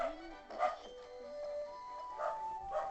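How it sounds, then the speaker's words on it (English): Dog barking and yipping in the background, several short whiny barks spread over a few seconds, faint and somewhat muffled. "you will sadly be hearing the dog bark for 5 minutes straight"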